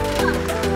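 A duck quacks loudly and close in a single harsh, nasal burst, heard outdoors on a mountain bike ride near a bay and waterfall in Trinidad.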